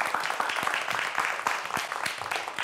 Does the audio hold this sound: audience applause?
yes